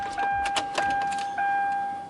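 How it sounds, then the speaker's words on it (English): A car engine cranks but fails to start, a short burst of starter turning up close alongside a steady electronic warning tone, then the sound cuts off. "You go to start your car and you crank it, and this is what you hear."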